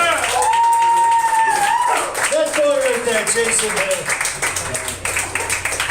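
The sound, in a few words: audience applause for comedians at a comedy show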